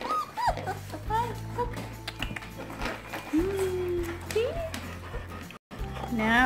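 Four-week-old German Shepherd puppies whimper and yip in high, thin cries over a low steady hum, with someone talking softly alongside.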